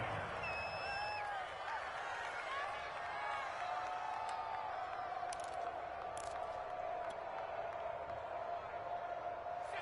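Stadium crowd at a Chargers vs Broncos football game, a steady distant murmur and roar filling the whole stretch, with faint whistles and scattered cheers rising over the broad wash of noise.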